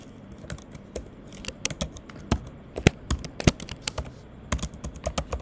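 Fingers type on a computer keyboard at close range in uneven bursts of crisp key clicks, with a few short pauses between runs.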